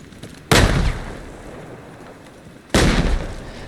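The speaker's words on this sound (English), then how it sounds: "I'm tossing those nades to whoever's closest, to at least slow them down where I can hit them easier" Two loud grenade explosions in a video game, each a sharp close blast with a decaying rumble, spaced about two seconds apart.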